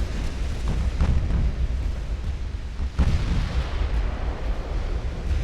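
Torpedoes striking a warship in the Ultimate Admiral: Dreadnoughts naval battle game, with several heavy booming impacts about a second apart over a dense, continuous rumble of battle noise.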